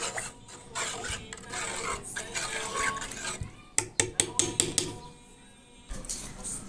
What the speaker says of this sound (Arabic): تفضلي تقلبي فيه كده على البوتاجاز كده